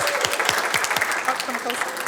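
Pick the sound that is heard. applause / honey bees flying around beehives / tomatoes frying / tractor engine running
applause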